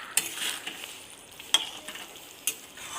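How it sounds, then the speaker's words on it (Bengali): Chicken pieces stirred through a spice masala in a kadai, with three sharp spoon scrapes standing out over a soft, steady frying sizzle, close and fairly quiet. "এবার চিকেনটা নাড়াচাড়া করবে"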